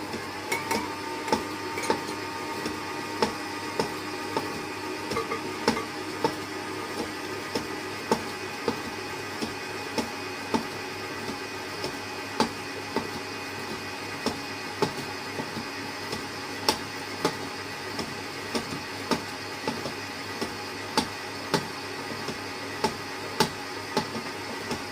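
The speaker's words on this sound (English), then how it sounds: "Ignore the noise, it's my mixer head." An electric stand mixer runs steadily while a red velvet layer cake is being made, a constant mechanical whir with a regular ticking knock, close and continuous with no talking.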